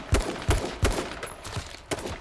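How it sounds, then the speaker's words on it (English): Gunfire in H1Z1, the battle royale game: about six sharp, punchy shots in a quick, fairly even rhythm, with no talking. "I think I got hit by a sniper."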